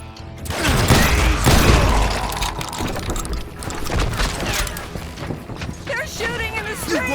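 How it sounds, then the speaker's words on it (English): Gunfire crackles through a dusty Old West town street in Call of Juarez: Gunslinger, steady volleys of shots over mechanical clatter and shouting voices, sustained and loud throughout. "They're shooting in the You street!"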